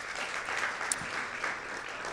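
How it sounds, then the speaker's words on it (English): An audience at a conference applauds in a sustained, even burst of clapping that fills the whole moment at moderate loudness, with no voices over it. "Let's give them a round of applause as well."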